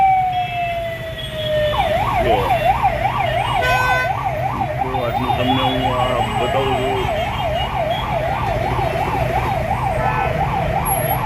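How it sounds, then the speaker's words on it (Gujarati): An ambulance siren wails, rising and falling in a steady rapid cycle over constant traffic-jam rumble on a national highway, with someone talking briefly near the start. "એમ્બ્યુલન્સ આવે છે પણ જો સાઈડમાંથી આવે છે"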